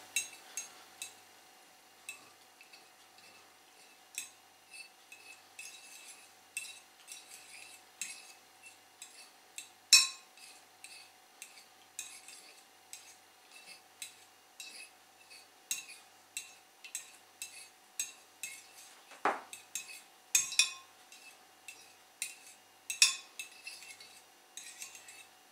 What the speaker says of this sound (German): als erstes werden die Eier zerkleinert